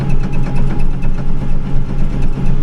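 Kubota MX6000 tractor doing dirt work: a loud, close diesel engine chugs steadily with a rhythmic pulsing throb and a constant low hum, no voices.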